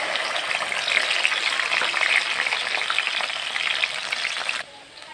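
Spice paste hitting hot oil in a kadai after a cumin tempering, giving a loud, close, steady sizzle and crackle that runs without a break and then drops off sharply near the end.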